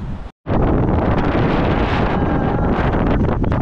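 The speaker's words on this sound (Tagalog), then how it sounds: "Medyo mahangin na." Strong wind buffets the microphone with a loud, steady roar, broken only by a brief moment of silence near the start.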